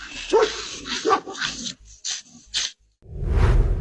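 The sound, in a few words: German Shepherd dog barking on security camera footage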